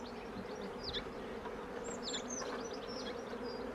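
Honey bees at an open hive, busy producing propolis, give a steady close buzzing drone with a few individual bees whining past near the microphone throughout.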